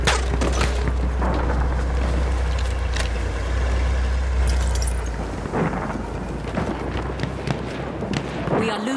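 Grenade blast in a Battlefield 1 Conquest match on the Ballroom Blitz map: a deep, heavy rumbling boom swells and rolls for several seconds, then fades into scattered crackles, sharp impacts and distant battle noise, with voices calling out.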